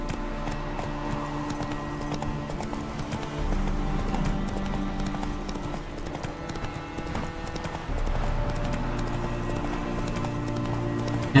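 Geralt's horse Roach gallops in The Witcher 3: Wild Hunt, a steady fast clip-clop of hooves running continuously under in-game ambience, close and even throughout.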